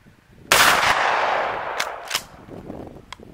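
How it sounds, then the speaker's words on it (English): A Winchester 1300 Defender 12-gauge pump shotgun fires a Federal 3-inch magnum 1¼-ounce slug, one loud, close blast with a decaying outdoor echo, followed by faint mechanical clicks and small knocks. "here goes the Federal 3-inch magnum 1¼-ounce slug chronograph test"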